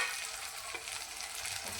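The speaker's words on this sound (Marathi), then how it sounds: "मस्त आपला मसाला फ्राय झालेला आहे." Ginger-garlic masala frying in oil for a makhana curry makes a dense, even sizzle with faint stirring scrapes, close and continuous for under two seconds.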